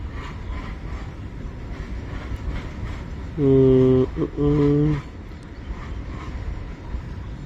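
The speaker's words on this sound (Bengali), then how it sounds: "অনেক বড় মালগাড়ি তো।" A long freight train rolls past with a constant low rumble of wagons, broken near the middle by two loud, sustained blasts of its horn, one right after the other. Faint talk sits underneath.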